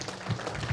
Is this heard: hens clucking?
no